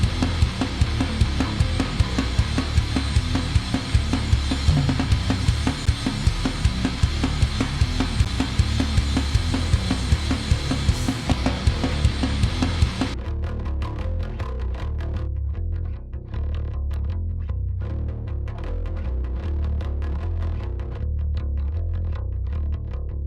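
A bass guitar riff played through distortion plugins, growling and fuzzy at first, then continuing in a cleaner, thinner tone for the second half without the distortion.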